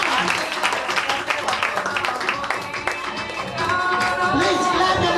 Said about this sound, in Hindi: जोरदार तालियों के साथ गेम शुरू करेंगे